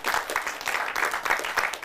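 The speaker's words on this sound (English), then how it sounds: "Please clap for him." Brief burst of audience clapping for a speaker at an insurance recovery-story event, a steady broadband patter of many hands at moderate loudness with no voices over it.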